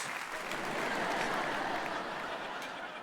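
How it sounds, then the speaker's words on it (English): Audience applause at a stand-up comedy festival in Winnipeg: a steady, even wash of many hands clapping, heard at moderate distance with a faint murmur of the crowd. "I don't enjoy applause."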